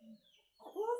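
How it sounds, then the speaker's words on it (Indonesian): Chicken clucking in a home kitchen area, a couple of soft low clucks followed by a louder, nearer burst of clucking toward the end. "Ayam sana"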